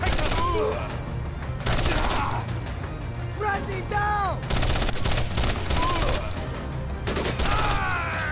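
Rapid gunfire rattles through a hostage-rescue mission in Code of Honor 3, loud repeated automatic bursts spread across the stretch, with faint whistling and a spoken voice in the background.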